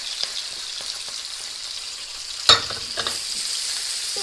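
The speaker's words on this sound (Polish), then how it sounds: "I teraz do momentu smażymy, aż nam się cebulka zeszkli." Onions fry steadily in a hot pan, a bright constant hiss with a sudden scrape of stirring partway through.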